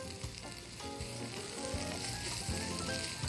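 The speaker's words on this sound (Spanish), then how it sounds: "Y estamos friendo las cebollas hasta que estén un poco translúcidas." Onions frying in a pan for a frittata, giving a steady, close sizzle with crackling spits and occasional stirring scrapes throughout.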